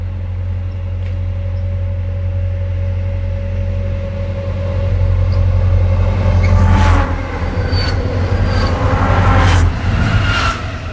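Santa Fe freight train number 96109 running eastbound near the top of a grade, a steady heavy low rumble of engines with rising wheel and rail noise and intermittent high squeals as the cars pass close by.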